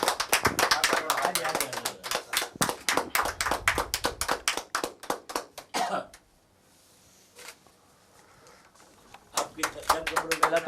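Audience at a community calendar launch ceremony claps in a dense, loud burst of hand claps for several seconds, then a quiet pause with faint voices, before clapping resumes near the end.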